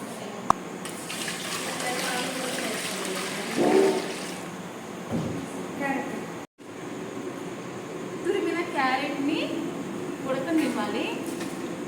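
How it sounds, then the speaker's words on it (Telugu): Water from boiled bottle gourd trickles and splashes steadily through a cloth strainer while people talk over it, the flow continuing beneath the voices. "సొరకాయ ఉడికిపోయాక నీళ్ళన్నీ వంపేసుకోవాలంట క్లాత్లు అయితే వేసుకొని వడకడుతున్నాము"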